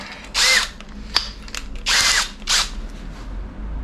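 A power drill boring into wood for a candle holder whirs in three short, loud bursts with pauses between them, along with some light clicks and handling noises.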